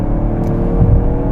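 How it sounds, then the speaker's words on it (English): A 2020 Lincoln Aviator SUV with a 400-horsepower engine accelerating in sport mode, a steady low rumbling whir with a slight swell near the end, heard from inside the cabin and alone. "I hear the engine a little, and you might be able to hear it, but I have it in sport mode"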